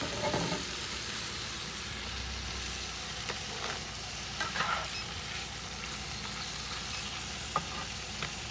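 Food frying in a pan inside a car, a soft, steady sizzle with faint stirring clicks and a low background hum, no talking.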